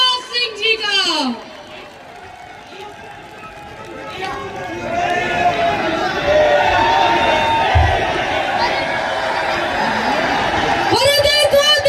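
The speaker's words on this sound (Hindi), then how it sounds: "जोरदार ताली के साथ स्वागत है टाइगर श्री राजा सिंह जी का" A large crowd at a Hindu religious rally in Chhindwara, Madhya Pradesh, swells into a loud, continuous roar of cheering as Raja Singh arrives. An announcer's amplified voice is heard before and after.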